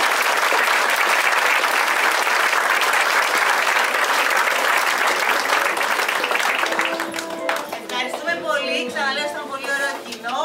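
A theatre audience at a stage play gives loud, sustained applause with dense, steady clapping. After about seven seconds the clapping thins and a voice speaks over it.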